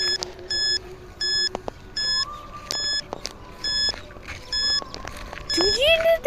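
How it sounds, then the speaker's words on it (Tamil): Electronic beeps from a handheld ghost tracker detector, short repeated high tones in clusters with gaps, then a rising warbling sweep near the end, close and fairly loud. "இங்கே என்னமோ அதிகமாக பீப் சவுண்டு கேட்குது கைஸ்"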